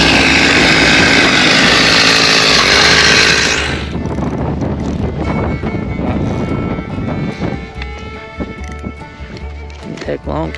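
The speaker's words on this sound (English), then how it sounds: "We're getting the hole drilled and we'll check in once we're done." A power auger bores a hole through lake ice for perch fishing, a loud buzzing two-stroke engine roaring at first, then dropping to a rougher, churning idle with clanking as the drilling continues.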